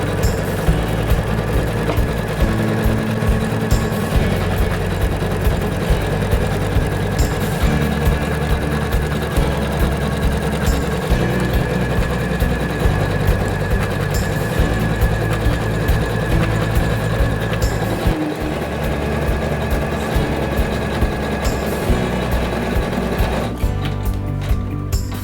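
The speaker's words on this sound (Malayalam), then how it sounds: "സ്റ്റിച്ചിങ് നടന്നുകൊണ്ടിരിക്കുമ്പോൾ" A Usha Janome embroidery machine stitching a design onto a shirt, a loud, continuous, fast mechanical whir and needle rattle that holds steady throughout, with a brief change near the end.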